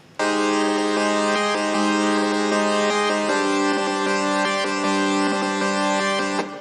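Omnisphere synth chords chopped rhythmically by a Gross Beat gating preset, a dense sustained chord stack pulsing in steady choppy cuts, loud and continuous with a gritty, overdriven edge throughout.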